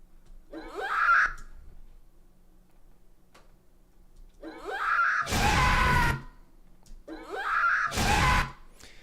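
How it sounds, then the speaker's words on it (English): Scream sound effects made for a game enemy play twice as loud, harsh bursts, each preceded by a shorter, brighter wailing cry; an opening cry is heard alone, with quiet gaps between. "I realized that the scream doesn't match his other sounds"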